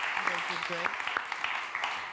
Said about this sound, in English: give just a warm round of applause